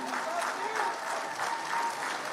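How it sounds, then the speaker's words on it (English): Parents at an eighth-grade graduation ceremony at The Academy Charter School in Hempstead applaud their children in a steady, rolling ovation from a large crowd, with faint voices and cheers mixed in. "Come on, parents, put your hands together for them."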